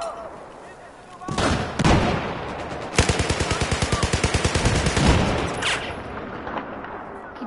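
Battlefield 4 combat with a loud, steady machine-gun burst of evenly spaced shots, wrapped in heavy battle noise, booms and other shots, with voices faintly mixed in.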